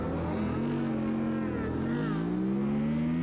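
A Suzuki SV race car launches hard in a race, its engine droning loud and steady with rising pitch as it accelerates, with other engine noise layered underneath throughout.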